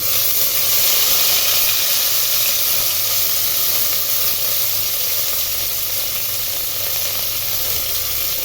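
Steady, dense sizzling of chopped curry leaves frying in hot oil, loud and close, continuing evenly without pause.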